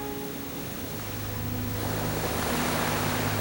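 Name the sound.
ocean waves and seawater flooding a low road in Tuvalu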